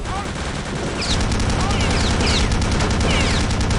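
Sustained machine gun fire in the video game Return to Castle Wolfenstein, a loud continuous rattle of rapid shots with ricochet-like whines layered over it, no pauses.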